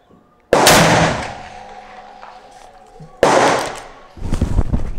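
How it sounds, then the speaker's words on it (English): Two loud, sharp gunshots about three seconds apart from a Thompson Contender chambered in 7mm International Rimmed, each followed by a decaying echo, with a voice speaking briefly near the end. "Let's try another shot."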